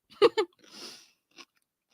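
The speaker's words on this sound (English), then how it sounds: "Apologies if you can hear me chewing, by the way." Someone bites and chews a crunchy pickle close to the microphone: two sharp crunches, then a softer wet chew and one more small crunch, with quiet gaps and no talking.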